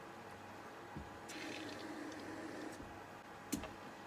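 Water runs from a tap in a steady, soft hissing stream for a couple of seconds, with a few small clunks and taps around it.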